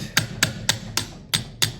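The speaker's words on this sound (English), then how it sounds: "I use a nylon tipped hammer and kind of line things up here" Six sharp taps of a nylon-tipped hammer driving a part into an AR-15 rifle during assembly, struck at a steady rhythm about a quarter second apart, close and crisp with quiet gaps between.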